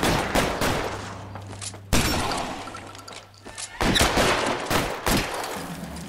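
Gunfire in the video game LA Noire comes in several sharp bursts of rapid shots, each followed by a brief pause, loud and close.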